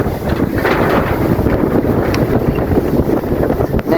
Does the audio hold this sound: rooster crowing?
no